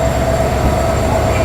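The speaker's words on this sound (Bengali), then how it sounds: "এটা হচ্ছে আমাদের আজকের ট্রেনের লোকোমোটিভ নাম্বার 3016" Mohanagar Express train pulled by locomotive number 3016 on a rainy, windy night: a loud, steady rumble of rolling rail cars with a faint high whine, continuous and close.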